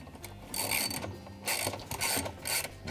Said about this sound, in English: we'll remove a 7/16 bolt that holds the agitator to the shaft